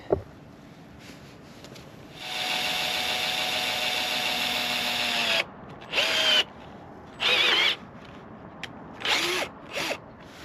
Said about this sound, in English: I've chosen the 3/4 inch spade drill bit